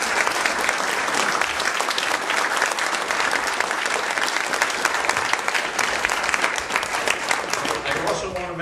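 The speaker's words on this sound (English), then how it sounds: "I think they all deserve a wide round of applause" An audience at a community forum on wind energy bursts into sustained, dense applause, loud and continuous for the whole stretch with indistinct voices mixed in.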